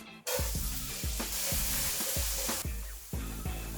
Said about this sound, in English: Okay, so our oil is nice and hot. Let's get the onions in.